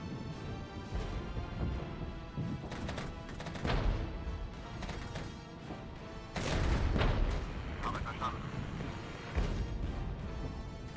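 Artillery and vehicle weapons fire from a battle in the Cold War strategy game Regiments: dense, continuous rumbling with scattered sharp booms and crackling impacts, loudest in bursts around the middle, over a constant battlefield din.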